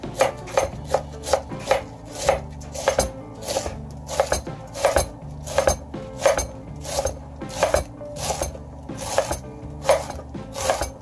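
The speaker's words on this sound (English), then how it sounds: "So I'm going to shave up the cabbage here." A knife shaves through a head of cabbage on a board in steady, evenly spaced rasping strokes, close and fairly loud, about one cut every half second.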